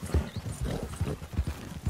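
Horse hooves clip-clop in Red Dead Redemption 2, a rapid uneven run of close, heavy hoofbeats with a brief whinny mixed in.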